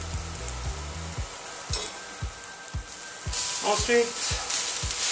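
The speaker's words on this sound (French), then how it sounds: "Donc on fait griller un peu les échalotes." Shallots sizzle in a frying pan with a steady, close frying hiss and a series of regular stirring knocks, brightening near the end; a voice speaks briefly at the start.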